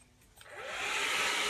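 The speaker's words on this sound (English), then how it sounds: "So then you just put it on the blow dryer" A handheld blow dryer switches on and ramps up to a steady, close, whooshing roar while curling false eyelashes, rising over the first second and then holding level, with no talking.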